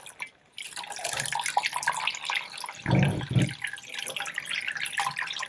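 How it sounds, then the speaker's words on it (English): Cold water pours and splashes over avocado skins and pits in a container for making fabric dye, a steady running trickle with a couple of heavier gushes midway. "So let's just put these into cold water."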